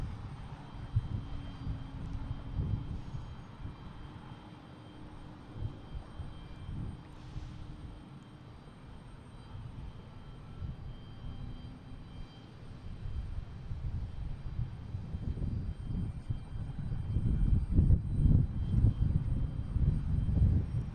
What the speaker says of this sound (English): This is American Airlines heading to Louisville, 4507,